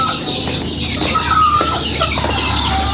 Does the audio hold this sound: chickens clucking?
yes